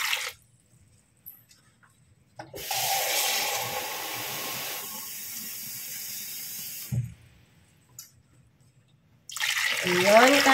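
Water poured from a container into a cooking pot over pork pieces with lemongrass for Filipino lechon, a steady splashing pour of about four seconds, then quieter trickling, with clinks and handling noises before and after.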